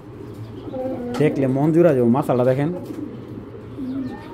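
A female Janssen racing pigeon coos in rolling, pulsing phrases close by, with someone speaking over the calls.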